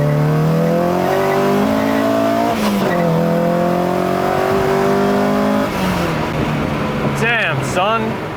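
A K-swapped naturally aspirated car engine on a dyno revs hard and climbs in pitch, drops briefly at the shift into second gear, then pulls again loudly up close, with voices talking over it near the end.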